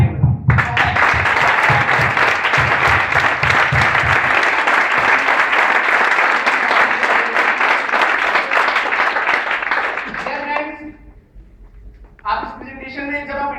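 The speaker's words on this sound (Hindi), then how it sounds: "अब मुझे लग रहा है कि मैं खुद आप लोगों के लिए तालियां बजाऊं" A large crowd at a motivational presentation bursts into loud, sustained applause for about ten seconds, then it drops away and a voice speaks.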